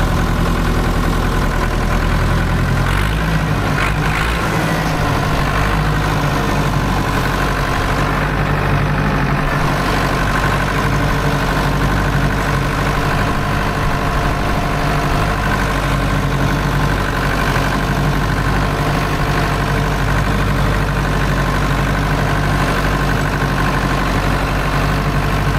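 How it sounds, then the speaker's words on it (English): An old farm tractor engine idling close by, a steady low chugging rumble with a rhythmic pulse that runs unbroken for the whole stretch, no voices. "Listen to some old tractor power."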